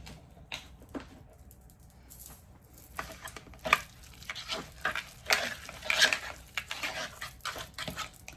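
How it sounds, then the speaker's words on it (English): Guacamole being mixed in a bowl, a wet, squelching churn with soft scrapes and light knocks of the utensil, growing busier and louder toward the end, with no voices. "And just mix it all in"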